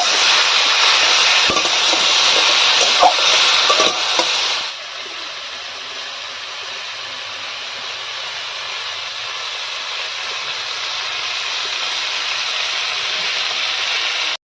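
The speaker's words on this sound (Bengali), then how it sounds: "এঁচড়টা আমরা ভালো করে লাল লাল করে ভেজে নেব।" Pieces of green jackfruit fry in oil in a wok, giving a dense, steady sizzling hiss that is loud for the first few seconds, then drops to a softer, continuous sizzle. No one speaks.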